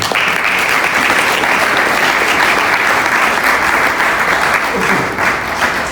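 A church congregation at a Sunday service claps and cheers in loud, sustained applause that fills the room, fading slightly near the end.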